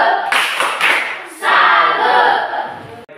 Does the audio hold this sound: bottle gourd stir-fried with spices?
no